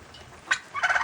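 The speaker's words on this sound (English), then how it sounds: "Hi turkeys." Turkeys gobble outdoors on a windy day, a brief burst followed by a louder, longer run of rapid gobbling calls close by.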